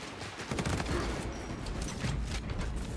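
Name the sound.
heavy bolt pistol firing in a video game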